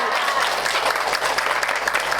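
Steady audience applause from a women's Islamic study group in a television studio, continuous and fairly loud clapping throughout with no break.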